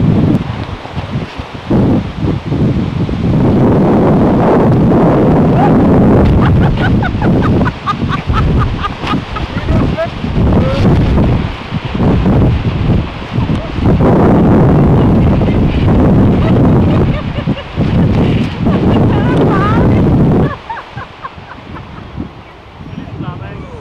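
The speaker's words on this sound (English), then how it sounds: "it's really windy outside" Strong gusty wind blows outdoors on a windy day, buffeting the microphone with loud, rumbling surges that rise and fall before easing near the end.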